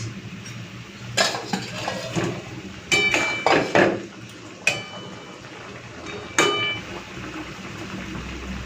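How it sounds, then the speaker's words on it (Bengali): Pieces of fried hilsa fish go into a pan of sour curry, giving several sharp metallic clinks and knocks of a utensil against the pan, spaced irregularly over quiet sizzling background. "এখন দিয়ে দিচ্ছি ভেজে রাখা ইলিশ মাছ"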